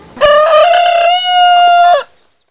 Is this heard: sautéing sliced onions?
no